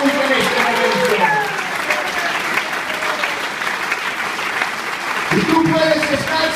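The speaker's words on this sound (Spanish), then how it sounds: "Un aplauso fuerte para el Señor Jesús en este momento." A church congregation breaks into loud sustained applause, many hands clapping together in a reverberant room while a voice speaks over the clapping throughout.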